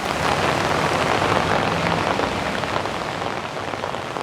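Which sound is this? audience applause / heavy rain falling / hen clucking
heavy rain falling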